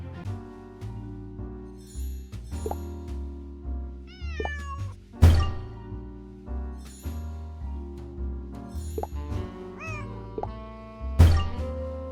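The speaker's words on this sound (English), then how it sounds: "That sure got the cat to come down." Cat in the Nancy Drew game Lights, Camera, Curses, meowing repeatedly with rising and falling cries and a couple of sharp thumps, fairly close and alone.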